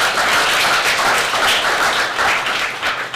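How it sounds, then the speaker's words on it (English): A crowd at a tech meetup claps loudly and continuously for about three seconds with no talking, and the sound fades slightly toward the end. "Give yourself a big round of applause."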